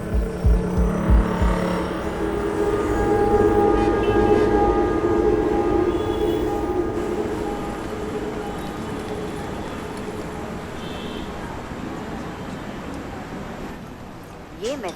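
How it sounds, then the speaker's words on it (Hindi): A Kochi Metro train runs at a steady hum with rail rumble and a tonal whine, a few thumps at the start, and the noise gradually fades toward the end. "ये मेट्रो आलवा स्टेशन जाएगी।"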